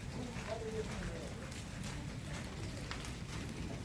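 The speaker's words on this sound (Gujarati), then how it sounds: "દીદી કેવો વરસાદ" Unseasonal storm rain pours down in a steady, faint, hissing wash of drops, with a voice faintly present beneath.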